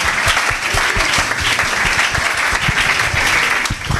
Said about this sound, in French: Est-ce qu'on ne peut pas acclamer le Seigneur?